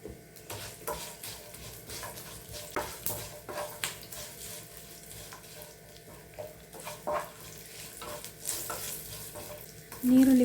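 Garlic sizzles and is stirred in a home pan, with low, steady frying hiss under scattered scrapes and clinks, plus a brief louder burst near the end.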